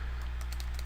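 Keys tapped on a computer keyboard while a web address is typed out, several soft clicks in quick succession over a steady low hum, fairly quiet and close.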